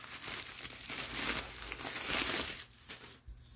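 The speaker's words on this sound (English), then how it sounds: "And I'm going to take the paper out of the bag." Stuffing paper crinkles and rustles as it is pulled out of a new luxury handbag, close, busy crackling bursts that ease off near the end.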